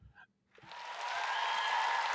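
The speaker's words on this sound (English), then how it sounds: "I thought people were cheering." A crowd's applause swells from quiet into a broad, steady wash of clapping and cheering that holds loud to the end, after a brief faint sound at the start.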